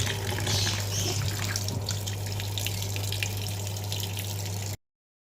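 Mutton being washed under a running kitchen tap: a steady, fairly faint splash of flowing water with a low hum beneath, no talking, stopping abruptly near the end.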